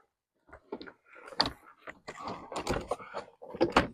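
Clattering and knocking of a Chevrolet Silverado truck door panel being handled and pushed into place, with scraping, thuds and small rattles in uneven bursts.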